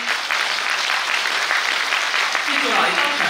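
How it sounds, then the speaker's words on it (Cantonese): A concert audience clapping warmly in an anniversary celebration concert, a dense, sustained round of applause that stays even throughout. "我哋再次以熱烈嘅掌聲感謝佢哋。"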